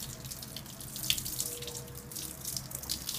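Tap water runs steadily into a sink as hands are washed, a continuous close splashing hiss with small drips and splatters throughout, without any speech.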